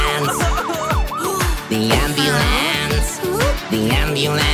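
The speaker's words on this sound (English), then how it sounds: "What do we need? The ambulance." A bouncy children's tune plays with a rising-and-falling ambulance siren wail woven into the melody, looping several times over a thumping beat.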